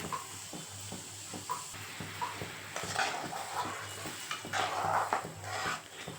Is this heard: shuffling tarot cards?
no